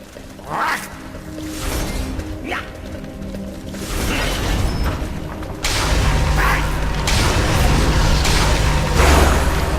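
Game explosions from the Bombard spell in War for the Overworld, several booming blasts with whooshing tails landing one after another over a dense, rumbling battle bed, growing louder and heavier toward the end.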